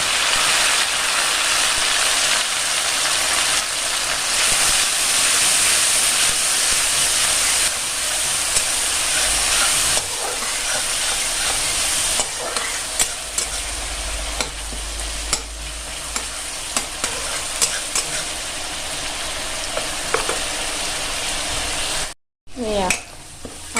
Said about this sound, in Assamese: এয়া আদা নহৰুখিনি অলপ কেঁচা গোন্ধ যোৱালৈকে ভাজিছোঁ